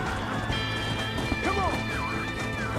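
Horse in the video game Red Dead Redemption, with galloping clip-clop hooves and a whinnying neigh sweeping up and down, mixed with game noise and someone talking over it.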